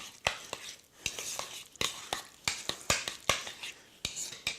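A utensil stirs and clinks against a bowl as salt, garlic and taco seasoning are mixed together, giving quick, irregular scraping taps at close range, fairly quiet.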